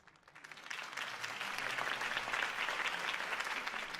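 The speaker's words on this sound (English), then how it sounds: "could have heard that applause" A crowd in the video game Batman: The Telltale Series applauds steadily, a dense wash of clapping that swells in the first second and then holds loud and even to the end.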